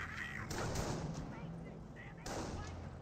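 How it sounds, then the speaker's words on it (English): Volksgrenadier rifle fire in the World War II strategy game Company of Heroes, heard as a couple of heavy, booming shots with long decays over a dense battle din. "Volks Grenadiers firing away."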